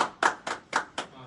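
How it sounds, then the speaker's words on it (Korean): Five separate, evenly spaced claps ring out close by at a lecture on farmers' basic income, sharp and distinct rather than a full crowd roar. "그럼 박경철 박사님 박수로 모시겠습니다."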